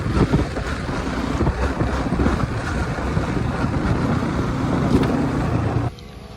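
A Yamaha R15 motorbike engine runs with a steady, loud, rough drone, then cuts out abruptly near the end as the petrol runs out, leaving only quiet background.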